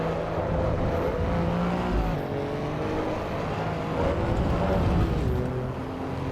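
Race car engine in the video game Assetto Corsa EVO, a continuous loud droning note with shifting pitch as revs rise and fall, steady throughout with no talk.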